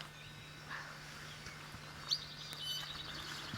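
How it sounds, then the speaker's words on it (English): A Hawaiian creeper calls in a forest in Hawaii with a few faint, thin chirps and a brief trilling phrase, distant and quiet over a low steady hum, with no voices. "And that's the creeper."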